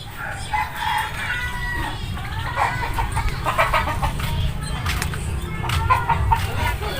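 Fighting cocks on a farm crow and cluck repeatedly, several calls overlapping at close to moderate distance over a constant low background rumble, with a few faint voices mixed in.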